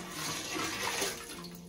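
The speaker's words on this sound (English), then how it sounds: "Time to test the toilet. Put some water down." Water pours into a newly installed toilet bowl, a steady broadband splashing and gushing heard close up for under two seconds, with no talk.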